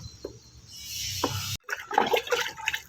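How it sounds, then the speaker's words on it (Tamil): Sesame cake liquid fertilizer being stirred and strained, with soft splashes and sloshing of liquid followed by a louder burst of pouring and gurgling after a brief cut. "இப்போ இதை நல்லா கலந்து விட்டு நம்ம வடித்து எடுத்துடலாம்."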